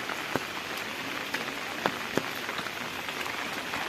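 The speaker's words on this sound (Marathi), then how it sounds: "पाऊस आला थोडा" Light rain patters evenly over a flooded paddy field in the Konkan countryside, a soft, dense, continuous hiss with a few sharper drops landing close by and no voices.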